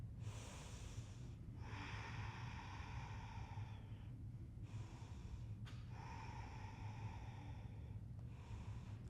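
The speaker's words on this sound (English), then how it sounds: "Calm, smooth, steady breathing." Calm, steady breathing during an Ashtanga yoga flow, with long audible inhales and exhales in a slow regular rhythm, close and fairly soft over a low background hum.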